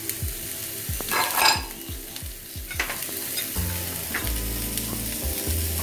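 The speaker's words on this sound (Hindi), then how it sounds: "और अब हम इसे अच्छे से सौते कर लेंगे।" Chopped capsicum and peas sautéing in a pan for veg lollipops, a close sizzle with a rapid run of spoon scrapes and taps against the pan, then a steadier frying hiss with a low hum.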